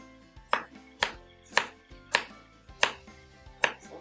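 Knife chopping jicama into cubes on a cutting board, a series of about seven crisp, evenly spaced chops close up, with no talk.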